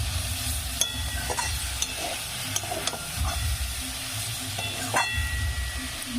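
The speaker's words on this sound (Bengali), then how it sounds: "এই সময় একটু নেড়ে চেড়ে নিতে হবে" Fried eggplant and drumstick flowers are stirred in a hot pan, giving a loud, continuous sizzle with scattered sharp clicks and scrapes from the spatula.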